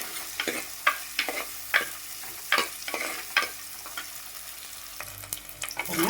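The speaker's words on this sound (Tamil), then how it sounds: "வெங்காயம் நல்லா வதக்கி எடுத்துக்கணும்" Steady sizzling of onions frying in a pan, broken by repeated scraping and stirring strokes from a spatula, close and moderately loud with no voices.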